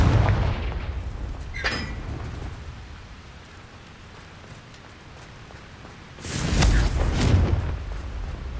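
A Confringo blasting spell erupts in the Hogwarts Legacy video game as a loud booming burst with a crackling rush. It stands out against a rumbling, rain-like background of game noise.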